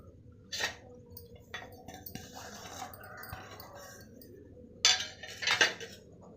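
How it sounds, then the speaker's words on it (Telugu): A knife cuts spinach finely on a board, giving a few separate close taps and scrapes spread over several seconds, with a louder pair of strikes near the end and no talking. "బచ్చలాకు సన్నగా ముక్కలు చేసేసుకుంటున్నాను"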